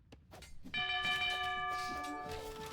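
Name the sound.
town bell from the video game Age of Empires 2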